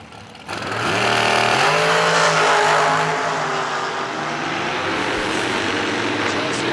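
A 2011 dragster of the Bad Habit Racing Team from Maryland launches at a drag strip, its engine snarling up through a loud rising roar, then holding a harsh sustained blare, with an announcer talking over it.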